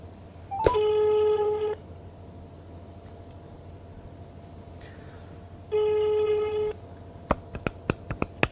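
A telephone tone sounds twice, each a steady electronic beep lasting about a second, over a faint low hum. It is followed by a quick burst of sharp clicks.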